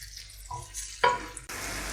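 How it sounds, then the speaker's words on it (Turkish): Peppers fry with butter in a pan, giving a steady sizzle with a couple of louder crackling bursts and brief stirring noises, no voices over it. "Şimdi içine bir dolu tatlı kaşığı tereyağını ilave edip tereyağla beraber çok az daha kavurmaya devam edeceğim."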